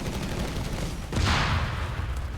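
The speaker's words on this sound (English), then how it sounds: "Grenade is thrown." Grenade exploding in Company of Heroes 3, a single broad burst landing amid ongoing distant battlefield rumble and scattered gunfire, with a lingering noisy tail.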